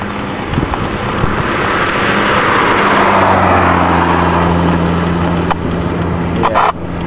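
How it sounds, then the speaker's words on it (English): A Jeep passes close by on a road, its motor rumbling steadily and swelling through the middle of the pass, with wind buffeting the microphone throughout and no voices. "I just had a Jeep drive by me here and it caused my HD here to pick up all its motor noise."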